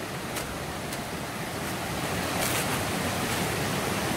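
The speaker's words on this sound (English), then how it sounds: "waterfall over here." A jungle river waterfall roars in a steady, dense wash of rushing water, loud and constant throughout, with no voices.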